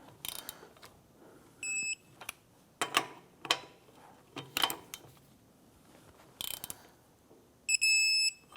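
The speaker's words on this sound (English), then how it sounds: "Torque down our lug nuts to 83 foot-pounds" Lug nuts on a 2007-2012 Nissan Versa wheel are tightened with a torque wrench, producing short bursts of ratcheting clicks with pauses between them, close and fairly quiet, along with several brief electronic beeps.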